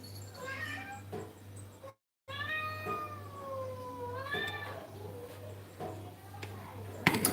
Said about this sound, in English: This cat will beat you.